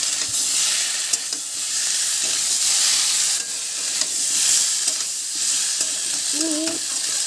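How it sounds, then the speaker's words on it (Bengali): Ginger, garlic and dried chili paste sautéing in refined oil, a loud steady hissing sizzle with stirring scrapes throughout, close up with no speech. "ভালো করে কষিয়ে নেব।"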